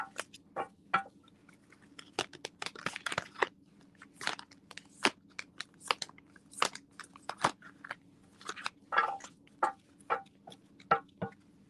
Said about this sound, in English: while I shuffle these cards